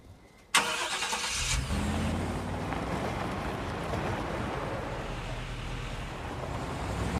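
A film scene of a car driving away from a house: a sudden engine start, then a steady rumbling motor and tyre noise that carries on loudly until it cuts off.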